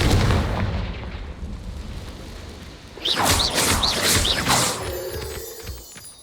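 Confringo fire-blast spell in the game Hogwarts Legacy, a run of loud booming explosive bursts with crackling sparkly impacts that cluster in the middle and then fade, with no speech over them.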